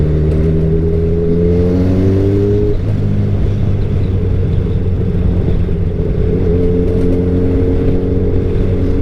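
Loud, close engine drone of a motorcycle being ridden, with its pitch sliding up and down as the rider repeatedly speeds up and slows down, a continuous roar with steady wind rumble.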